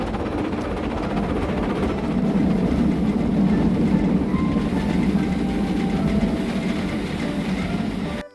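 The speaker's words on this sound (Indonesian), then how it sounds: "di sini ada kereta api Thomas." A toy Thomas train runs steadily for the whole stretch, a continuous close mechanical rumble and whirr with a faint rolling clatter and no voices over it.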